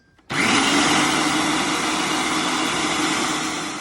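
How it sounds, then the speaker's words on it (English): A blender purees red cabbage, switching on abruptly with a loud, steady whirring roar that holds for several seconds and tapers slightly toward the end. "we're just going to let it puree"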